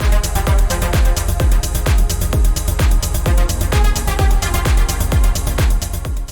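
Modern techno groove with a big synth lead riding over a steady four-on-the-floor kick, loud and continuous with regular punchy beats throughout.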